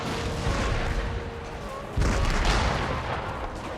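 Artillery volley in Empire: Total War, Prussian cannons firing on Spanish troops, a dense continuous roar of booms with a louder burst midway, heavy and sustained with no talk.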